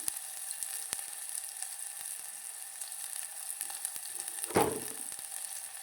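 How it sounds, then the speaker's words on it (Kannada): Garlic and onion fry in a pan for a home-cooked Indian lunch, giving a faint, even sizzle with a single brief clatter near the end and no voices. "ಬೆಳ್ಳುಳ್ಳಿ ಹಾಕ್ತೀವಿ, ಉಳ್ಳಾಗಡ್ಡಿ ಹಾಕ್ತೀವಿ, ಸ್ವಲ್ಪ ಹೊತ್ತು ಫ್ರೈ ಆದಮೇಲೆ"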